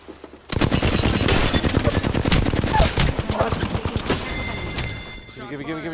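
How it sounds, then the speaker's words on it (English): Rapid automatic gunfire in a video game, a loud close burst of dense, evenly spaced shots that starts abruptly and runs for several seconds before thinning out, with no talking over it. "shots fired and they're hitting me"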